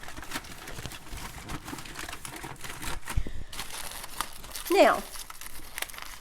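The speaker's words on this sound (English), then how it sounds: "heavy duty aluminum foil" Heavy duty aluminum foil crinkles and crumples in steady rustling handling, covering a ham in a crock pot, while a person talks over it.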